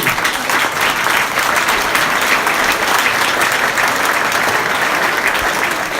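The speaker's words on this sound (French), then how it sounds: "Merci, vous pouvez l'applaudir." A crowd at a village patronal festival in Péone applauds during a speech, a loud, dense and steady round of clapping from many people that holds evenly throughout.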